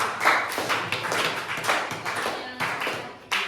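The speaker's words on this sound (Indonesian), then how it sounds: "Tepuk tangan buat kelompoknya Alesya" A classroom of students claps for a student group after its presentation, a loose scattering of hands with uneven taps and thumps rather than a dense roar, close by and moderately loud.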